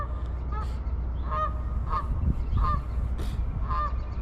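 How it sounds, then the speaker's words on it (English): Geese in a partly frozen lagoon in Calgary honk repeatedly in short nasal calls, several in a row spaced about half a second apart, heard at a moderate distance over low outdoor rumble. "we have a couple of very noisy geese in the lagoon here"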